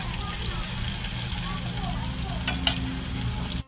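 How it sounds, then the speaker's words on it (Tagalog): Chopped tomatoes sautéing in a hot pan for ginisang bagoong isda give off a steady, close sizzle, with faint clinks of a utensil stirring and voices speaking in the background. "lutuin muna natin kunti itong kamatis"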